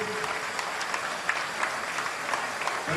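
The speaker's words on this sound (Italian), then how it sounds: "per il quale voglio un grosso applauso presente oggi qui con noi" Audience applause at an inclusive basketball event in Portogruaro, steady moderate clapping from a gathered crowd with occasional sharper claps above the wash.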